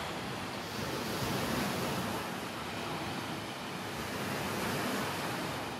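Sea waves wash against the shore about twenty metres from a balcony in Ierapetra, Crete, a steady broadband surf rush with gentle swells, fairly loud and mixed with some wind, no talking.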